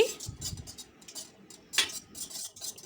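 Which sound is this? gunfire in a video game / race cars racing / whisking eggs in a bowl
whisking eggs in a bowl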